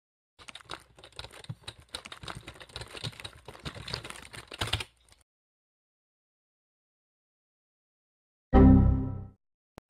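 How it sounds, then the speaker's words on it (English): Rapid keystrokes clatter on a computer keyboard in a dense burst for about five seconds, then silence, followed by a short loud thud near the end. "I will be typing the secret command so that way I will end this error."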